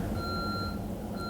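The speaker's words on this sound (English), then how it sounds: "I don't know how to turn the alarm off, but you hear this?" A building alarm sounds as a steady high electronic beeping tone over a constant low rumble, continuous and moderately loud, with no speech.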